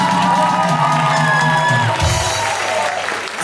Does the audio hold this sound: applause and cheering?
yes